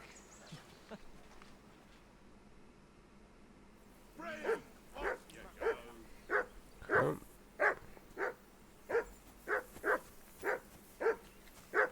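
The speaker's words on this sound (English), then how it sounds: "And the dog is going off on one" Dog in Kingdom Come Deliverance 2 barking in a steady run of about a dozen loud, evenly spaced barks close by, after a quieter stretch of faint talk and ambience at a bandit camp by a riverbank.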